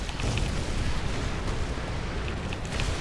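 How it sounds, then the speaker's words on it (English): A T-34 Calliope rocket barrage in War Thunder pounds the area with dense, continuous explosions and rumbling impacts, a loud steady roar lasting throughout with no talk. "I've got the rockets and the power."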